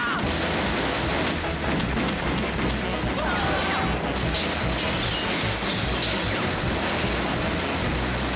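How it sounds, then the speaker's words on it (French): Cartoon gunfire from the Dalton brothers shooting wildly in a Lucky Luke Western cartoon, a dense, loud barrage of shots and crashes packed over the soundtrack with a voice briefly heard. "On tire dans le tas."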